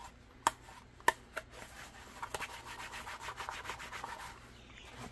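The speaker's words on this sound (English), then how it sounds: "we're gonna give this a clean with just regular REM oil" Cloth rubbing and wiping over a handmade IWB gun holster being cleaned with REM oil, a few sharp taps early on, then steady close scrubbing strokes that fade near the end.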